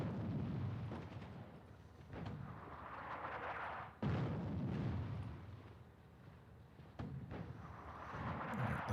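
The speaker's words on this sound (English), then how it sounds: "Hit him with artillery in the open." Artillery fire in the wartime strategy game Attack At Dawn: North Africa booms in deep, rolling blasts, one heavy thump arriving every couple of seconds with a long rumble trailing after each, fairly quiet overall and free of speech.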